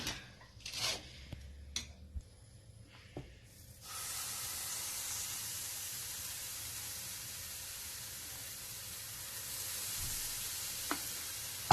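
A semolina crepe frying in oil and butter in a pan: a few clatters and knocks, then a loud, steady sizzle that carries on alone, with a couple of faint taps.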